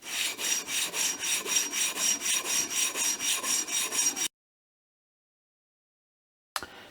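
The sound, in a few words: sanding on sandpaper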